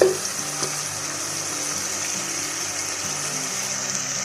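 Potatoes drop into a masala already frying in a pan, which brings a brief burst of sound. A steady, fairly quiet sizzle continues alone afterward.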